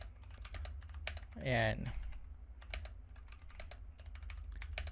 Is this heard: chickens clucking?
no